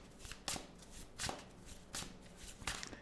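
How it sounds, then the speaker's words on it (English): Tarot cards being shuffled by hand, giving four distinct riffling bursts at a steady rhythm, close and fairly quiet, with no talking. "When people actually shuffle and get cards out."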